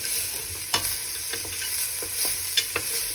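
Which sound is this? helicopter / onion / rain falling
onion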